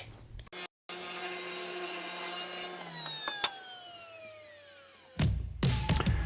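A saw rips wood stock to width, its high blade whine holding steady and then winding down in pitch as it coasts to a stop, followed by a few close clunks of the board being handled.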